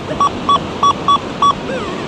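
Five short, evenly spaced electronic beeps from an XP Deus 2 metal detector, crisp and close over faint background hiss.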